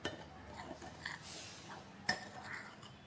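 Soft scraping and light clinks of a spoon stirring semolina and powdered flattened rice together in a bowl, quiet and continuous with a couple of sharper taps.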